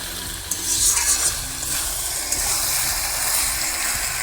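Lote shutki curry frying in a pan, a steady sizzle with scraping, clattering stirring strokes of a spoon against the pan, close and continuous with no talking.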